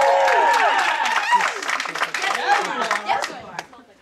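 Audience applause at an OKC Improv comedy show, a burst of clapping from a crowd that starts strong and fades out over a few seconds, with voices and cheers mixed in.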